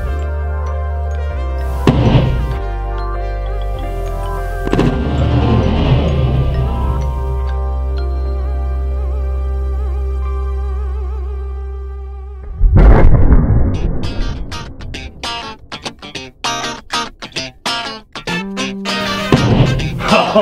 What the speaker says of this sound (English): we're just gonna see if we can cause an explosion with this hydrogen balloon